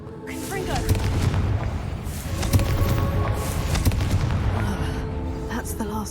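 A Confringo blasting spell going off in the video game Hogwarts Legacy, a booming explosion with rumbling impacts and crackling debris that carries through the whole stretch, with game music and effects underneath.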